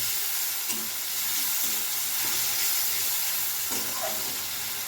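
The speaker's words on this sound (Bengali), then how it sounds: "খুব ভালো করে মশলাটা কষিয়ে নেব" Tomato paste and ginger spice mixture frying in a pan for malai potol, a soft continuous sizzle with intermittent scraping strokes of a spatula stirring the thick paste.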